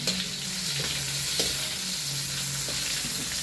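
Garlic frying with longganisa for fried rice, a continuous close sizzle with light stirring, no voices.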